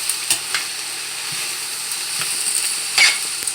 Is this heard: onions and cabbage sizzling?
yes